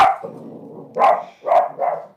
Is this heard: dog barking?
yes